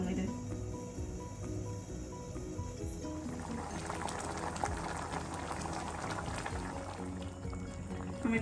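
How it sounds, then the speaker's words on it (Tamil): Vada curry gravy simmers in a pan with a steady bubbling and popping, soft and continuous at close range, with faint background sounds and occasional clinks. "ஒரு 10 நிமிஷம் கொதிக்கட்டோங்க."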